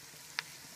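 Ginger and garlic frying in a pan for chicken curry, a soft steady sizzle at low volume with one small tick of a stir partway through.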